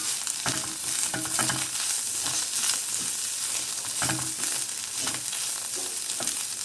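Minced chicken keema fries in a pan, a continuous close sizzle with repeated sharp stirring scrapes and clicks throughout, no speech.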